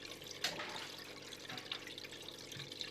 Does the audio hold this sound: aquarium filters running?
yes